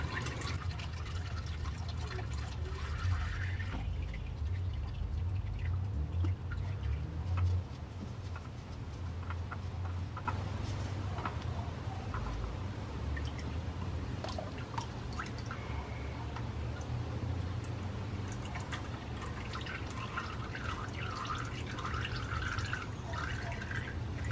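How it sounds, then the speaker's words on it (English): Engine oil runs and drips steadily from the drain area as the oil filter is loosened, a continuous wet trickle with a low background hum and no talking. "as you start to loosen it, more oil will start to drain out"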